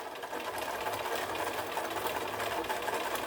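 A sewing machine runs steadily, stitching a small piece of fabric onto a quilt square, its rapid needle chatter continuous and close for the whole stretch.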